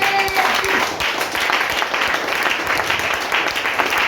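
A church congregation applauds the Lord, a loud, continuous wash of clapping hands with scattered voices and cheers mixed in throughout.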